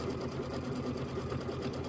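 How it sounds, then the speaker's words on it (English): An embroidery machine runs a tack-down stitch on a Kimberbell mini quilt project, a steady, fast mechanical whir with rapid needle ticking, close and continuous throughout with no talking. "it's going to tack it down. And the tack down stitch is nice."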